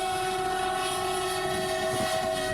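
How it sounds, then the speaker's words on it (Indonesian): Jakarta-Bandung high-speed train passing during a test run, a loud steady rolling rumble with a sustained horn tone held throughout, close and continuous with no talking. "proses uji coba rangkaian kereta cepat Jakarta-Bandung yang melintas"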